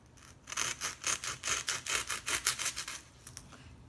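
A pumpkin form is shaved at the top with quick rhythmic scraping strokes, about a dozen even rasping passes, close and fairly quiet, with no talking.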